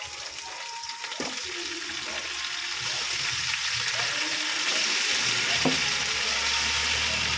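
Chicken pieces frying in a pan for a Filipino chicken caldereta with carrots, a steady bright sizzle running throughout with a few soft clinks and stirring knocks, close and moderately loud, no talking.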